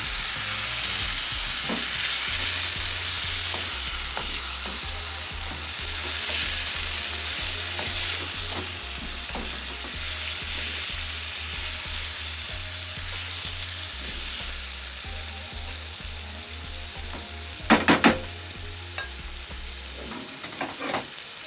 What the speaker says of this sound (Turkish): Salçaya da biraz kavrulduktan sonra domateslerimi ilave ediyorum